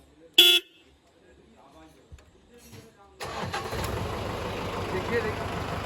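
A new car delivered in Chandrakona town starts up after a brief crank and settles into a smooth, steady idle that continues to the end, preceded by a short sharp beep and some quiet handling noise.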